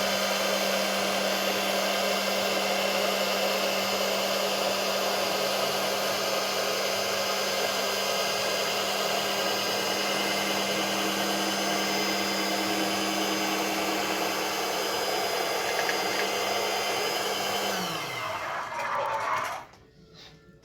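A disc cutting machine slicing through fabric, a loud steady motor whine and buzz that holds for about eighteen seconds, then winds down in pitch and fades near the end.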